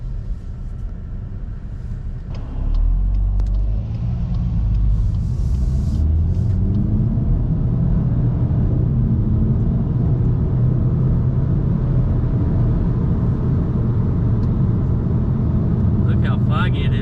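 A 2025 Volkswagen GTI pulls out of a fog-bound parking lot, its low engine rumble swelling after a couple of seconds and then holding as a steady, close drone.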